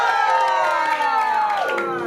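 A studio audience cheers and shouts loudly on a talk show set, with a dense wash of crowd voices and whoops that holds steady for a couple of seconds before easing slightly.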